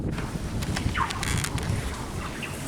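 Wind buffets a microphone while someone fishes for snakehead in a flooded rice field, giving a steady rushing roar with a brief chirp-like sound partway through and no talking.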